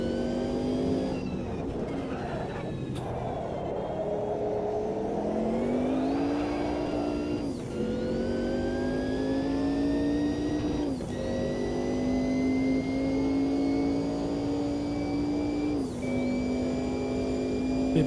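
Race cars in the Automobilista 2 racing game, a continuous high engine whine rising through the gears with brief dips at shifts, loud and steady, with no talking.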